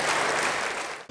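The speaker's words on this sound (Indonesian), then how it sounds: "Beri tepuk tangan yang baik bagi Dia." Church congregation applauding in praise, a dense wash of many hands clapping at once, loud and close, then cutting off abruptly near the end.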